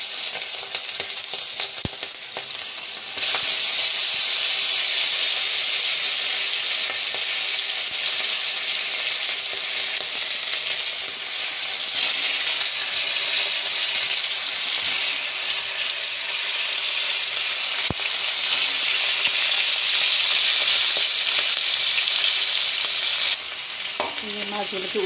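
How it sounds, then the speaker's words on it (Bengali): Pieces of hilsa fish fry in hot oil, a loud, steady sizzling hiss that swells after a quiet start and stays continuous for the whole stretch, close up with no voices. "মাছ ভাজা"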